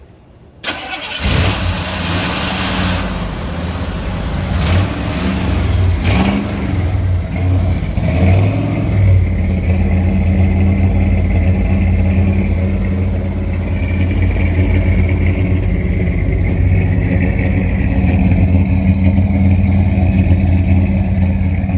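A 1992 Ford Ranger pickup with uneven exhaust pipes cranks over briefly, catches and fires, then settles into a loud rough idle with repeated revs close to the microphone, with no talking over it.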